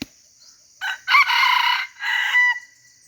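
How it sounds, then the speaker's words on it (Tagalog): Wild red jungle fowl rooster crowing outdoors, one clear multi-part crow at moderate distance with a steady high insect hum behind it. "tumitilaok na yung lubuyong alpas doon"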